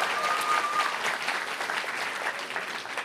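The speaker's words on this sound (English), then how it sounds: "Let's hear a round of applause for Eric." An audience claps for a podcast co-host joining the stage, a dense, continuous burst of applause from a crowd that holds steady for the whole stretch with no talking.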